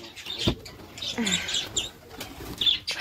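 Pet pigeons in a coop flapping their wings in short bursts and cooing, with a few chirps mixed in, close by, with no talking.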